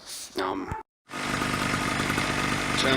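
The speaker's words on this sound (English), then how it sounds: "Generator is running, it's charging already." A generator on a sailboat under refit, set up to charge the batteries in place of a missing rectifier, runs with a steady, loud engine drone after a short silence, following a few brief sounds at the start.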